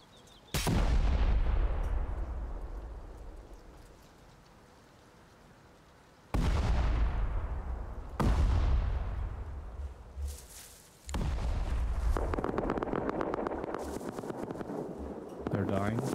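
Gunfire in the video game Rust, several loud booming shots with long decaying tails, separated by gaps, and players talking between them.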